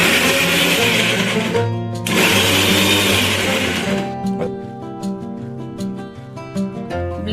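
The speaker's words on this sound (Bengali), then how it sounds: "ভালো করে ব্লেন্ড করে নেব।" Kitchen mixer blender whirring loudly as it blends mango pulp, a steady motor drone that dips briefly and then changes to a choppier, pulsing whir in the second half.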